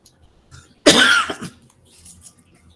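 One close, harsh cough bursts out, followed by a softer throat-clearing catch and quiet breathing in a still room.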